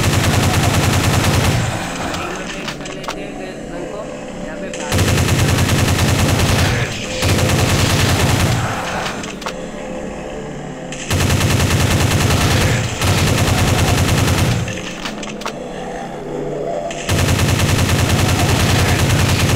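Rapid automatic gunfire from a mobile shooting game during a hospital department mission at level 27, coming in loud sustained bursts that alternate with short quieter gaps.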